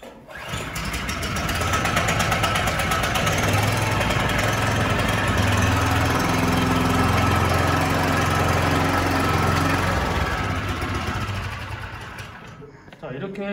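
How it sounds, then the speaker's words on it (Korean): An onion transplanter machine's small engine starts and runs steadily at close range, a loud continuous mechanical drone lasting throughout before cutting off at the end. "우선 시동을 걸겠습니다"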